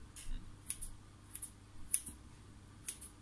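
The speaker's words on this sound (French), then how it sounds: "Donc 3 petits coups de ciseau." Scissors make three quick, close snips as a decoration is cut into brioche dough, crisp little clicks with quiet pauses between them.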